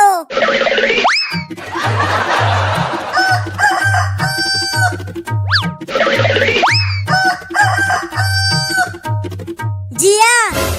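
A cartoonish rooster crows loudly at the start and again at the end, between bouncy music, boing effects and clucking.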